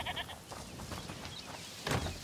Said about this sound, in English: Is that the goat you talked about?